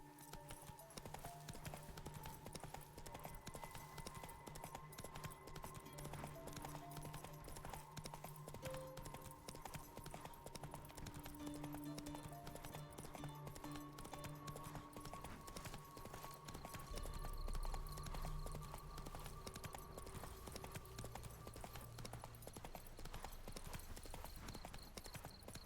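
Roach, Geralt's horse in The Witcher 3, trots with a steady, loud clip-clop of hooves that runs throughout, joined by a low ambient bed and a brief rumble near the end.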